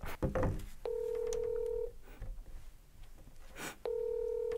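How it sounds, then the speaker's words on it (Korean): A telephone call being placed, with two clear electronic ringback tone bursts about three seconds apart and soft handling noise in between. "지금 전화를 한번 걸어보려고 합니다."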